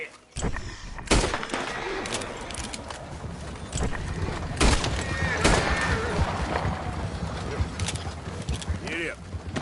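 Horse from Red Dead Redemption 2 whinnying and clip-clopping along, with sharp bursts and thuds over game ambience while someone talks to the horse.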